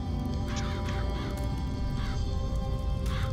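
Crows cawing in the video game Bioshock Infinite, several harsh caws spaced through a loud, dense ambient game background, with no talking.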